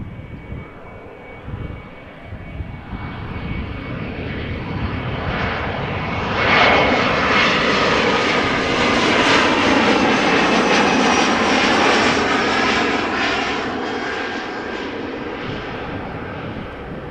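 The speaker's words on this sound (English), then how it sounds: "this was a small Embraer 175 arriving from Southampton" An Embraer 175 jet arriving at Amsterdam Schiphol roars steadily, swelling to a loud broadband peak midway and then easing slightly, with a continuous engine rush and a thin whine throughout and no voices.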